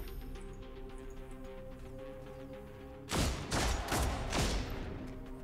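Heavy gunfire in the video game Warhammer 40K Deathwatch: after a few seconds of low ambient hum, a loud burst of several close booming shots erupts and continues to the end.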